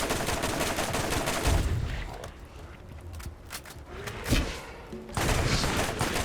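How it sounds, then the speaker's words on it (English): Turret gunfire in the video game Borderlands 1 Remastered, dense rapid bursts of shots that thin out in the middle and return loud at the end, with game effects mixed in. "I just keep on shooting here as the turret provides me some ammo"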